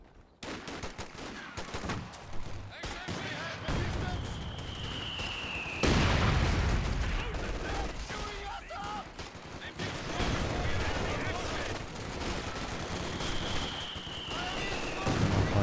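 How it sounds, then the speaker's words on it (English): Heavy .50 cal machine gun fire rattles in bursts through a Company of Heroes 2 battle, loud and dense with other gunfire and booms around it, while a commentator talks over much of it. "50 cal has incredible Penetration."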